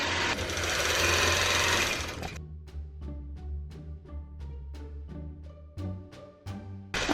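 A longarm quilting machine stitches a quilt. It opens with about two seconds of loud, steady whirring, then settles into a close, even run of quick needle pulses with a low motor hum underneath.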